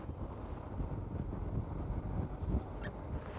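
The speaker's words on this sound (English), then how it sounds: "There's lots of gusts in this wind" Gusty wind buffets a motor boat, a steady low roar of wind rumble across the microphone that swells slightly in gusts, with no voices and a faint brief tone near the end.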